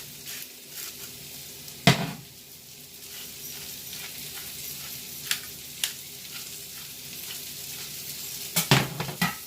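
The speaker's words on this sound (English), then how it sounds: "And then cook down the mushrooms, she said, for about 3 to 4 minutes." A whole package of mushrooms with salt and pepper frying in a pan for beef stroganoff, a steady close sizzle broken by a few sharp clinks and scrapes of stirring.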